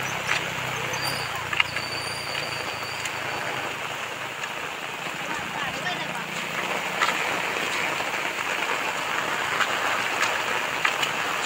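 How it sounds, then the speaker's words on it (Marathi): Heavy monsoon rain pours steadily in the Konkan countryside, a dense hiss of drops striking surfaces near and far, with occasional louder splashes and faint tones over the constant downpour. "पाऊस मित्रांनो जामच लागतोय, तो रात्रभर पाऊस लागतोय"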